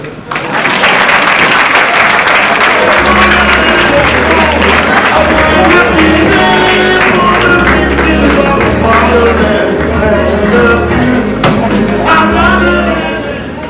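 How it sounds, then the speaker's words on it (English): A large crowd applauds warmly and continuously, with music playing underneath the sustained clapping. "A warm round of applause"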